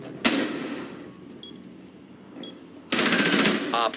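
Gunfire in the video game Rainbow Six Siege, a single sharp shot followed after a pause by a sustained loud burst of automatic fire, close and dominant.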